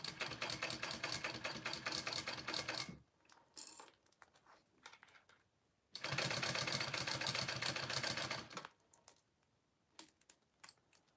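A home sewing machine stitches through a thick fabric seam on a small handmade pouch, running in two steady, rapid bursts of close mechanical chatter of about three seconds each, with quiet handling clicks and pauses between.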